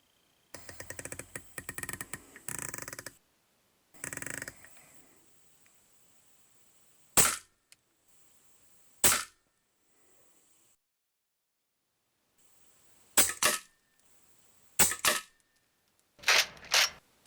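Rifle shots at a target 18 yards away: sharp, loud cracks, one at a time with long pauses between, then several in quicker succession, after a stretch of scraping and handling noises at the start.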